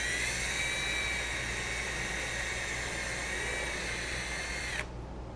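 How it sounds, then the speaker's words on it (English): A power drill whines steadily as it bores into a wooden 4x4 post, loud and continuous, then cuts off abruptly near the end. "I'm drilling into the 4x4 post"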